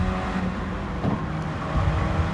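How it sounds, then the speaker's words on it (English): Race car engine at full throttle in Gran Turismo 7, a loud sustained engine roar with shifting pitch as the car accelerates in a slipstream past a roadster, no voices. "Hard on the accelerator, full throttle, getting into the slipstream, passing the roadster."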